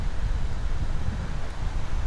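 Steady wind buffeting across open ground by San Francisco Bay at the western end of a park, a loud continuous low roar with gusty rumble and no voices.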